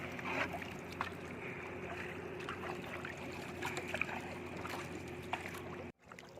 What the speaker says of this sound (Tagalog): Sagwan lang kami.